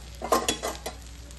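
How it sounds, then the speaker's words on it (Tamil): Ragi adai batter spread on an oiled griddle, sizzling softly in the oil, with a few short scraping bursts near the start over a faint steady frying hiss. "கல்லில் போட்டுட்டு நல்லா ஆயில் ஸ்ப்ரெட் பண்ணிக்கோங்க"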